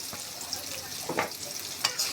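Onions frying in oil in a pan, browning for a fish curry with potato and pointed gourd; a close, steady sizzle with a few short stirring scrapes and clinks, no talk.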